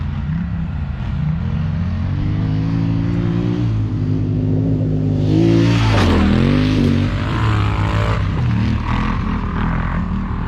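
A quad bike (ATV) on a dirt track rides past, its engine droning and revving as it nears, peaking loud around the middle with a pitch swoop, then fading as it pulls away, with no voices.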